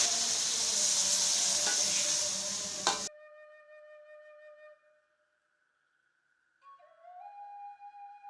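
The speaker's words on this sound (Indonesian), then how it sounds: "ditumis langsung nih, tumis sampai layu" Vegetables sauté in a pan for Padang-style gulai tauco, giving a steady, fairly loud sizzle for about three seconds that cuts off abruptly, followed by quiet electronic tones and near silence.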